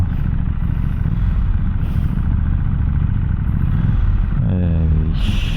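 A KTM Duke 790 motorcycle engine rumbles steadily and loudly while riding in Malaysia, with wind noise, and a voice briefly talks near the end.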